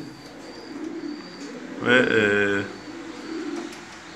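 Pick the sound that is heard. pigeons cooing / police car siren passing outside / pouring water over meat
pigeons cooing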